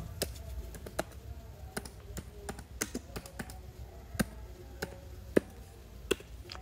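Computer keyboard typing while building a closing trial balance in a spreadsheet program: sparse, irregular key clicks spread across several seconds, soft and close over a faint low hum.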